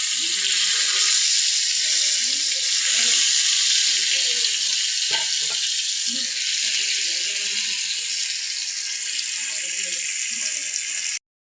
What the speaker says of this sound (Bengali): মাছগুলো সুন্দর করে লাল লাল করে ভেজে নেব